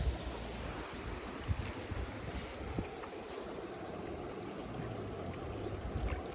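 The Black Cheremosh, a mountain river in the Carpathians, flows in a constant, fairly soft rushing wash of water heard up close, steady throughout with no voices.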